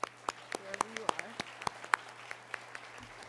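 A few hands clap at a nursing awards ceremony, producing sparse, steady, fairly close claps at an even pace, with a voice briefly heard underneath.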